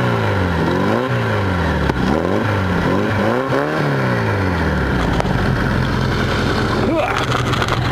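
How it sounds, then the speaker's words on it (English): Honda-powered or VW dune buggy engine revving up at a farm airstrip, a loud continuous roar with repeated rising and falling pitch sweeps, settling into a steady drone near the end. "Rev her up."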